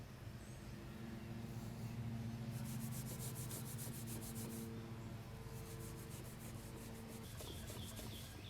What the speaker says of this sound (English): Now I'm going to focus on polishing the aluminium casting pieces so they look nice and shiny